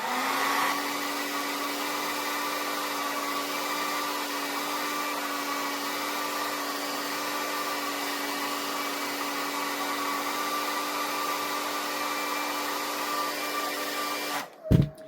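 Hair dryer on high heat blowing onto a wig, a steady close whirring roar with a constant hum that runs unbroken before cutting off abruptly near the end.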